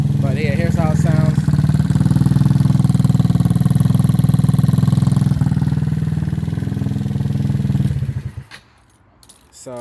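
A Suzuki DF50sst motorcycle fitted with a new exhaust idles steadily and loud close by for about eight seconds, a low even throb, before the engine cuts and the sound drops away.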